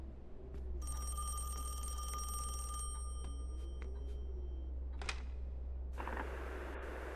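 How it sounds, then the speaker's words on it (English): A telephone bell rings in a video game at a storm-watch station, a steady electronic trill lasting about two seconds over a constant low hum, followed by a few clicks and a burst of static. "phone is ringing."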